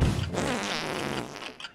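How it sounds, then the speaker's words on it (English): Fart noise from the video game BattleBlock Theater, one short, loud, rasping blurt lasting under two seconds with no talk over it. "Why does it make a fart noise?"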